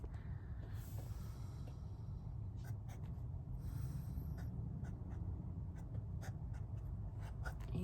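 A Nakaya Piccolo fountain pen with an extra-fine nib scratching across paper in short faint strokes, heard close against a low background rumble.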